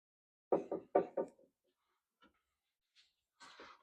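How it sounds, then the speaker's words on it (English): The doors of an industrial band saw machine are opened: a quick run of four close metallic clunks and rattles, then a few soft scattered taps and a final latch-like rattle, with no talk. "So I'm going to open both of our doors."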